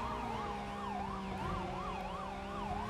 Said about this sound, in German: zum Glück haben wir hier unsere Sirene am Start